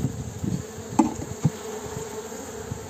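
Honey bees buzz around a very weak hive in a steady close hum, broken by a couple of soft knocks from handling the hive frames.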